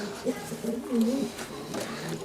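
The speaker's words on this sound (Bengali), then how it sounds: "আমার বাড়ির একজোড়া গাইডা কবুতর দেখাবো কিন্তু বেচবো না" Pigeons kept at a home loft coo in low, soft rolling phrases close by, a few short calls over a quiet background.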